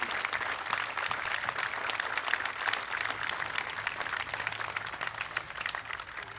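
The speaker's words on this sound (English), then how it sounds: "Let us recognize everyone participating in today's ceremony with a round of applause." Outdoor applause at a Memorial Day ceremony at a North Dakota veterans cemetery, a soft, steady patter of clapping from a gathered crowd, somewhat distant and sustained.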